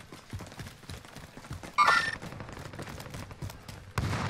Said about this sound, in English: He's in a firefight. He's shooting somebody.